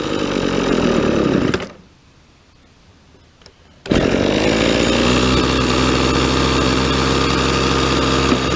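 A weed eater's small two-stroke engine idles during a carburetor adjustment: a loud, buzzing drone cuts out for about two seconds, then returns just as strong and holds steady.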